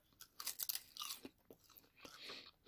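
Close, quiet crunching of a dried seaweed snack, irregular crisp bites and chewing crackles in quick bursts with no talk.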